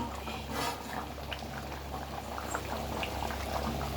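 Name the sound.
fish curry (chepala pulusu) simmering in covered pot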